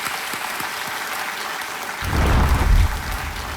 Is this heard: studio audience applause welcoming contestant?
yes